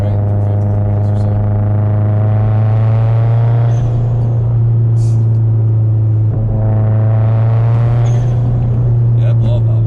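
A 2006 Subaru WRX STI engine drones loudly and close, with revs climbing and falling twice, and short hissing bursts from the turbo blow-off valve between pulls.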